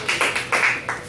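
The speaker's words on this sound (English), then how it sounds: "Big round of applause for Alan." A few people clapping sparsely for a short story writer at a reading, several distinct bursts of hand claps close by, with no talk.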